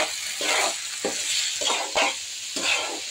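Washed rice sizzling in a pan with onion and dried chili, frying softly with a few rhythmic bursts of stirring scrapes, close and fairly quiet with no voices.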